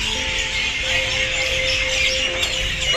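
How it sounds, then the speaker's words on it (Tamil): Parrots and other birds call from a tree in a dense, constant wash of chirps and tweets, moderately loud and unbroken for the whole stretch. "அந்த மரத்தில் நிறைய கிளி இருக்குது."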